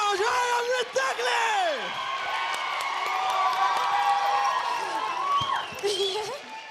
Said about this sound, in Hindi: जोरदार तालियां हो जाए अमृता के